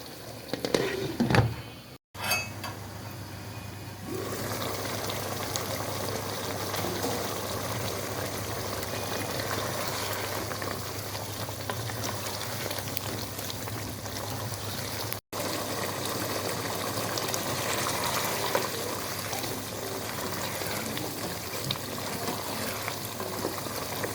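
Chicken biryani bubbling in a covered pot, a steady close boil and simmer hiss running evenly throughout, with a brief clatter near the start.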